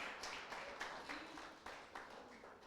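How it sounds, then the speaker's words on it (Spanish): Church congregation clapping in response to a call to applaud after a sermon, a soft, steady patter of many hands heard at a distance and fairly faint, with slight swells in intensity. "Dele una ofrenda de palmas"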